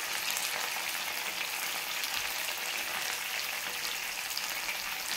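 Mutton browning in a frying pan as onions go in, a steady dense sizzle filling the whole stretch at an even, fairly loud level with no talk.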